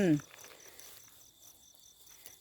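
Wild crickets in a rural field in northeastern Thailand chirp in steady, evenly spaced high pulses that carry on throughout, with a brief voice fragment right at the start.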